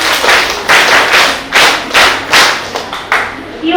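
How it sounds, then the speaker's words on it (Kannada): Members of a village development programme gathering clap together to open the event, sharp bursts of close, loud clapping arriving in uneven waves with brief dips between them. "ಎಲ್ಲರೂ ಸದಸ್ಯರು ನಮ್ಮ ಯೋಜನೆಯ ಚಪ್ಪಾಳೆಯನ್ನ ಹಾಕಿ ಈ ಒಂದು ಕಾರ್ಯಕ್ರಮಕ್ಕೆ ಚಾಲನೆ ನೀಡಬೇಕಾಗಿ ಕೇಳ್ಕೊಡ್ತೇನೆ"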